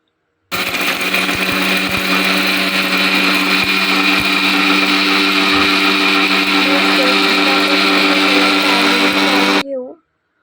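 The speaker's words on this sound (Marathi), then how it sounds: "चला आता आपण हे मिक्सरला बारीक करून घेऊ" An electric mixer grinder in its smallest jar grinds onion-garlic masala, a loud, steady whirring motor roar running nearly ten seconds before cutting off abruptly.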